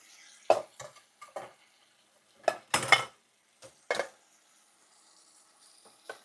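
Dishes washed by hand in a sink, with scattered clinks and clatters of bowls and cutlery, a few louder knocks among quiet splashing gaps, close by and without talk.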